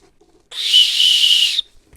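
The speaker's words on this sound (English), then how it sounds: "this does have a whistle" A single loud, shrill blast from a whistle on a hiking backpack strap, lasting about a second, sharp start and abrupt stop, in otherwise near silence.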